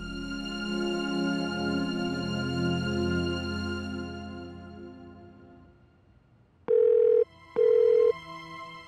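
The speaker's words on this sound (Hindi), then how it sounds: "पुलकित सर फोन क्यों नहीं उठा रहे?" An unanswered outgoing phone call in a Hindi TV drama: music fades out, then two short, loud ringback tones sound in quick succession.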